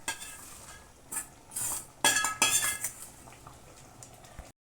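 A spoon clinks and scrapes against a pot while stirring tempering into buttermilk sambar, several sharp metallic knocks and swishes in short bursts between quiet gaps.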